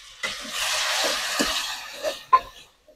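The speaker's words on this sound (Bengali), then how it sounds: "গরম তেলে আমি পেঁয়াজ কুচিটা দিয়ে দেব। এভাবে কিছুক্ষণ নাড়ার পরে বাদামি হয়ে যাবে।" Chopped onion sizzles in hot oil in a pan, a steady frying hiss broken by a few sharp scrapes and knocks as it is stirred, close and loud for a few seconds.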